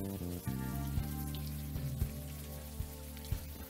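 Rain falls steadily in the video game Unavowed, with scattered drops and a few sharper taps on a surface over soft background music tones.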